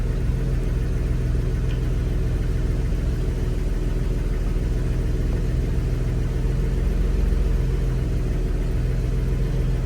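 A 1981 Chevy C10 square-body pickup engine idles steadily after a cold start, a loud, continuous low rumble with an even, unbroken drone throughout and no voices.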